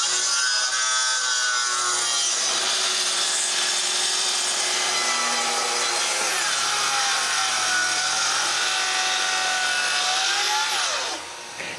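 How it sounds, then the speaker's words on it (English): Power saw cutting through wooden shutters to size, a loud continuous whining, rasping cut lasting about eleven seconds with no talking, ending as the blade winds down. "I still need to cut both shutters to size."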